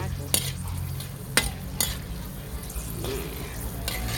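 Noodles being stir-fried in a pan with a steady sizzle, broken by a few sharp clinks of the utensil against the pan.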